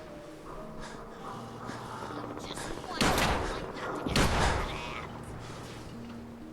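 Two loud blasts of laser pistol fire in Fallout 4 stand out over a low steady background, with speech faintly present.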